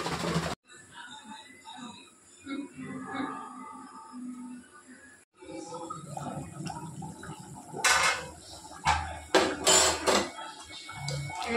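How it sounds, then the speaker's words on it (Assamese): Metal clinks and clatters as a lid is set down on a pot of fish roe curry with potatoes, a few sharp knocks over low, steady kitchen background noise. "এতিয়া মই ঢাকন মাৰি দিম"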